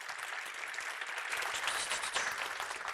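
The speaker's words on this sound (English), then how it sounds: "Warm applause" Warm audience applause following a talk on knowledge bases and memory for agentic AI, a dense, even clapping sustained for about three seconds, steady in loudness, no speech over it.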